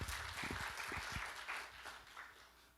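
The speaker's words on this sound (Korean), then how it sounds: "박수 한번 쳐주세요." A young adult church congregation gives a faint, distant round of applause, soft and diffuse, with a few louder low thumps early on before it tapers off.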